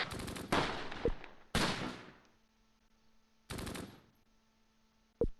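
Rifle fire in the WWII strategy game Close Combat, Cassino in June 1944: three loud close volleys of rapid cracks, each fading into echoing decay, with quiet gaps between and a final sharp shot.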